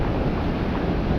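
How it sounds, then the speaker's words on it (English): Ocean waves wash steadily onto a flat beach with no gutters, giving a continuous broadband rush with wind buffeting the microphone. "All the waves that have receded a bit."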